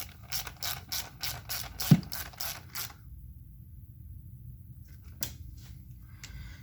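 Ratchet wrench clicking in a quick rhythmic series while tightening a spark plug on a 2016 Mini Cooper, loud up close, then stopping abruptly before a single faint tap.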